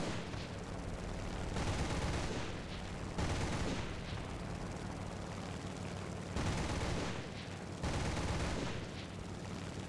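Machine gun fire from a He 112 B-0 fighter plane during an arcade air battle in War Thunder, heavy dense bursts of several seconds each, loud and close over a steady engine roar.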